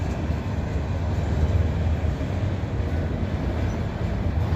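A freight train passes through Abbeville, giving a steady, low rumble of rolling railcars that holds at an even level throughout, moderately close, with no voices.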